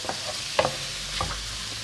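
Soft sizzling of diced carrot and onion in a pan with a few faint scraping stirs, quiet and close, no voices.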